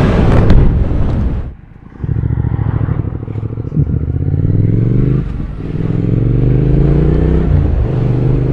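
A 2023 Triumph Speed Twin retro motorcycle rides past close and loud, its engine note rising and falling through gear changes with a steady rumbling drone, after a brief dip where the throttle closes.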